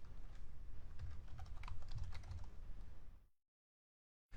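Rapid clicking keystrokes on a computer keyboard, close and steady for about three seconds before cutting abruptly to silence.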